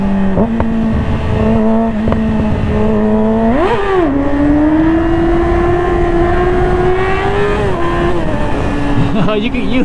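A Yamaha motorcycle engine drones loud and close in a tunnel, its pitch climbing in a quick rev before settling into a sustained high whine with the rush of wind over the rider.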